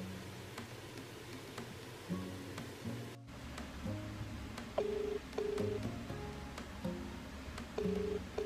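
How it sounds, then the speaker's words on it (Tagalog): A phone dials out for a call: a run of short, distinct keypad tones plays one after another over a steady background hum, with a brief dropout partway through. "Kaibigan ko ulit yung tatawagan ko."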